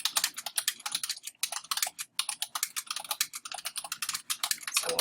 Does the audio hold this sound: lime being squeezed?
no